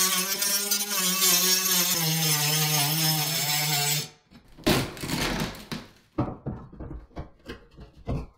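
A power tool cuts waterproof wall board with a loud, sustained whining grind for about four seconds, then stops, followed by scattered scraping and knocking as the cut section is worked loose.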